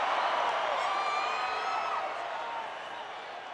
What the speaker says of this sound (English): People are cheering about it.